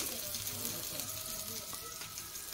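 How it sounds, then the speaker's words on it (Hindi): Onion and chili fry in hot oil for a shrimp recipe, a steady soft sizzle close by, with a voice faintly present in the background. "अभी इसे अच्छे से फ्राई कर लेना"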